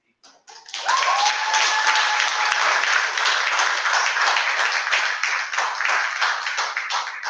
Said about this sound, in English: Can I have just one more round of applause for you beautiful people?